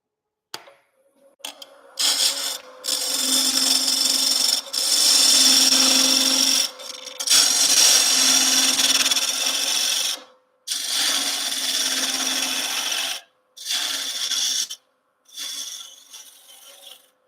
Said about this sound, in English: Take a bowl gouge. This is an end grain turning.